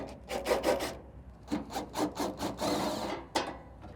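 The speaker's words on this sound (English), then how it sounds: "take off the bottom panel from our hopper by undoing these 4 screws so we can get to the connections" Screws being backed out of the bottom panel of a Camp Chef pellet grill hopper with a screwdriver or drill, heard as close, quiet rhythmic ratcheting rasps in short bursts with pauses between.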